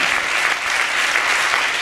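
Festival crowd applauding a band at a live music event, a dense, steady wash of clapping lasting the whole stretch with no pauses.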